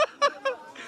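A voice imitates a peacock call during the Girnar parikrama pilgrimage, giving three short, loud, nasal honking cries in quick succession, followed by a fainter trailing sound.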